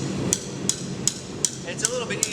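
A hammer strikes metal on a bending fork, a forging tool used to bend curves into metal stock. Six sharp metallic taps land at a steady pace, about one every 0.4 seconds, over a background of workshop noise.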